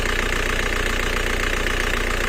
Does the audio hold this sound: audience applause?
no